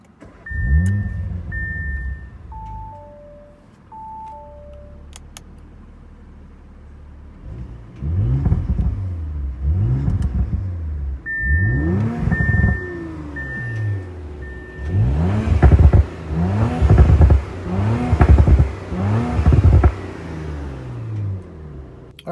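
A 2019 Audi RS5 sits stationary while its engine is revved in a series of sharp, loud bursts, each rising and falling, growing more frequent and aggressive toward the end, over an idle rumble.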